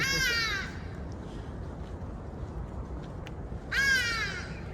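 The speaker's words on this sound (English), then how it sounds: "Some local noisy birds." Two bursts of harsh crow cawing, one at the start and one near the end, over a steady outdoor background hiss, behind the Victoria Falls Hotel in Zimbabwe.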